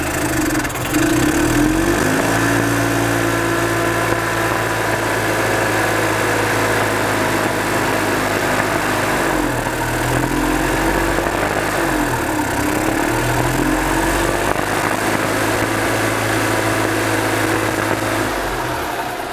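A 2005 EZGO TXT gas golf cart engine with a freshly cleaned carburetor runs steadily at close range, a continuous buzzing drone with slight rises and falls in pitch, no voices.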